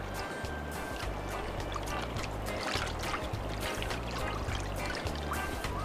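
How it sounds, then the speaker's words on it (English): Young nine-month-old Japanese macaques splash and paddle in water, making a steady watery pouring and sloshing noise with small splashes over a low rumble, no voices. "9-month-old macaques splashing around like 5-year-old humans"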